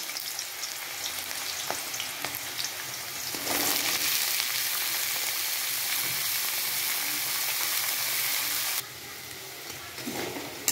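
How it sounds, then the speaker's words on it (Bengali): Finely cut potatoes fry in hot oil for a Bengali lote fish curry, giving a loud, dense, continuous sizzle that swells when the pieces go in and later drops slightly in level, with occasional stirring. "তেলের মধ্যে এবার তেলটা গরম হয়ে গেছে, আলুটা এবার আমি ছেড়ে দেবো।"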